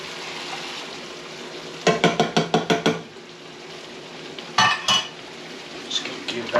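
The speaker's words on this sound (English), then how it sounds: "And we're going to stir in our enchilada sauce." Enchilada sauce and chilies stirred in a skillet: a faint simmer is broken by two bursts of rapid metal spoon clinks against the pan, then a few lighter taps.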